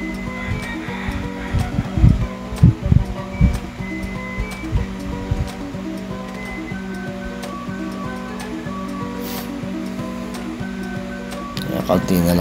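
Tofu sisig seasoned with oyster sauce sizzles steadily in a hot pan, a continuous hissing fry that stays even throughout with soft background music and a few louder clatters near the start.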